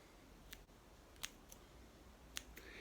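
Scissors snip modelling clay to form hedgehog bristles, several quiet, sharp, isolated clicks spaced irregularly over a faint, hushed background.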